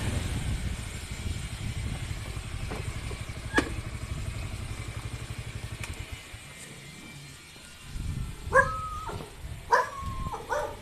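A stray dog lets out a few short barks and whining yelps near the end, after a stretch of engine rumble and outdoor street noise.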